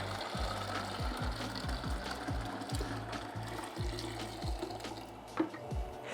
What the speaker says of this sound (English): So we are gonna throw in our hot water